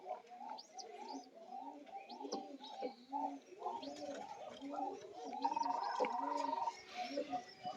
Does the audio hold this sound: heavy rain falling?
no